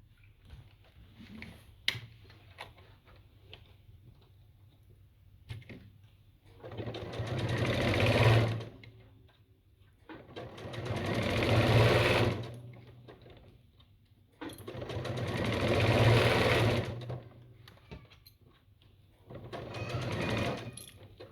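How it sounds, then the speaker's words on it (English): Sewing machine stitching a quarter-inch seam around the top of a fabric basket, four separate runs of steady rapid whirring, each several seconds long, with brief quiet pauses and light handling between. "now we're gonna stitch 1/4 of an inch all around our top"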